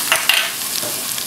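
Onions and garlic fry in a pan for a chickpea curry, a short, loud sizzle with a couple of stirring clinks, with no voices.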